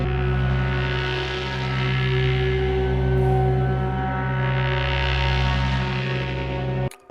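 A sustained synthesized drone with stacked harmonic tones, auto pan, phaser and LFO modulation slowly sweeping its brightness, washed in reverb, steady and loud before cutting off abruptly near the end.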